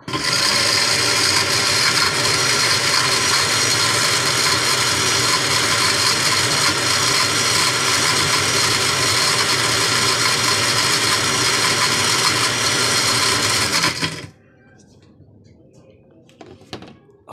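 A blender grinds charcoal into powder with a loud, steady whirring roar for about fourteen seconds, then cuts off abruptly, leaving near silence.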